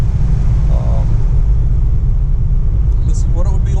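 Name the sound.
1937 Packard 120 car driving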